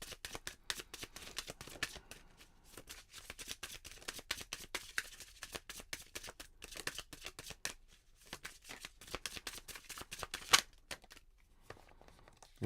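Tarot card deck being shuffled, a quiet, close run of rapid riffling flicks and soft card slaps repeating steadily throughout, with no talking.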